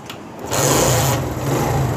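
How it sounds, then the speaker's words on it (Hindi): A repaired motorcycle with a magnet coil fault is started, and its small engine catches with a loud, steady, close whirring drone that runs on without a break. "बाइक को चेक करना है कि करंट निकाला है इसने कि नहीं निकाला स्टार्ट होता है कि नहीं होता"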